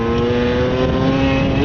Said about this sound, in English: on va faire un petit wheeling avec la nouvelle moto